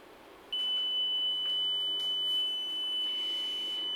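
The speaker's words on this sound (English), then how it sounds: "The buzzer sounds and the alert is shown in the display." The buzzer of a wireless flood alarm system starts abruptly and holds one steady, continuous high-pitched tone, fairly quiet and alone, with no voices.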